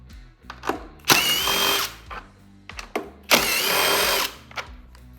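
A power drill on a Lynx Boondocker snowmobile backs out T-Torx 25 screws in two loud bursts of about a second each, separated by small clicks and rattles of handling the parts nearby.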